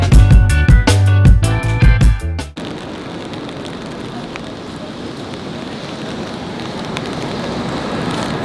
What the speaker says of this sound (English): It's somehow always raining in Tokyo.